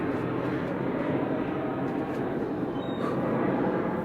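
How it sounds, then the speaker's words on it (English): A fixed-wing airplane passes overhead outdoors in hot weather, a steady broadband roar that stays loud and constant throughout, with no talking. "Should I wait until the plane is gone for audio purposes?"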